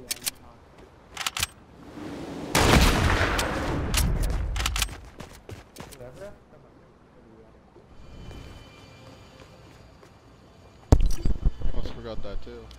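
Gunshots in the video game Fortnite during trickshotting and quickscope play: a few sharp isolated reports, then a sustained loud burst of fire, and another cluster of shots near the end, with talk heard in between.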